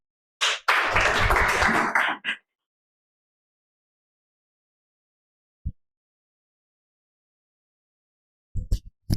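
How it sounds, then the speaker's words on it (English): A short burst of applause from a small audience at a Toastmasters club meeting lasts under two seconds, then silence with a single faint tap and a couple of brief knocks near the end. "put a round of applause for our Toastmaster of the Day, Toastmaster Eshan."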